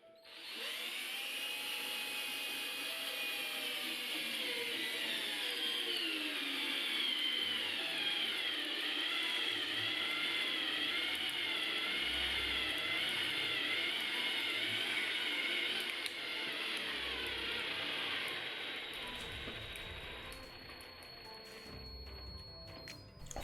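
A Parkside PBSA 12 D2 cordless drill driver sinks an 8×120 wood screw into wood, a steady whining motor drone that strains and wavers in pitch for about twenty seconds, then slows and stops.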